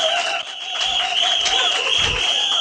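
An audience at a competition event claps for a doctor, with the applause rising and sustained over a bright, steady music-like tone and some low thumps.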